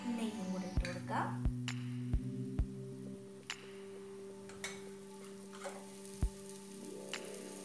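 Ghee poured into a hot pan of a colourful breakfast dish with ginger and coriander leaves, giving a steady sizzle under repeated sharp clicks and taps of a spoon against the pan.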